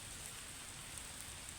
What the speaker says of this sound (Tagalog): Ulan na naman. So ganyang ano ng ulan.